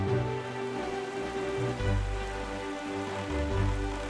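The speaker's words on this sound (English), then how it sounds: "it seems like it's just raining" Steady rain falls in The Legend of Zelda: Wind Waker HD as a soft continuous patter, layered under sustained tonal game music with low swelling notes, evenly moderate throughout.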